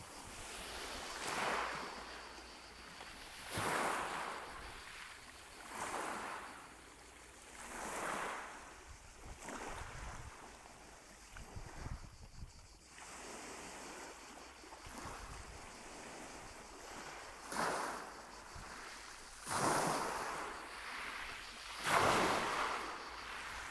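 Waves of the Adriatic Sea wash in and recede in a slow, steady rhythm, each surge swelling to a broad rush of surf before fading, with a faint low wind rumble underneath and no voices.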